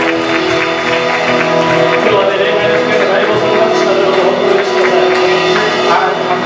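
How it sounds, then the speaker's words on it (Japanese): Church congregation at a bilingual Japanese and English service applauding in thanks, a loud, continuous wash of clapping mixed with crowd noise and sustained music, with no clear individual claps. "拍手を持ってイエス様に感謝を捧げましょう。"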